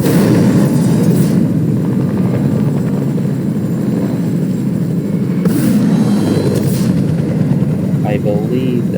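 A helicopter in a racing video game, a loud, steady rotor and engine drone that holds evenly throughout, close and constant, with someone talking briefly near the end.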